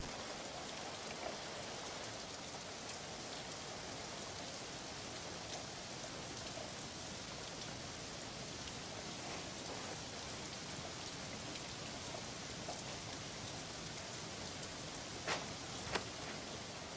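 Steady rain falling outdoors, an even, continuous hiss with no voices and a few brief louder drips near the end.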